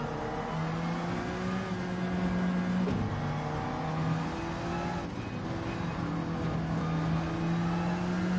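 Corvette and Ferrari race car engines in a racing video game, giving a steady, loud, continuous drone with shifting pitch as several cars run close together. No talking is heard.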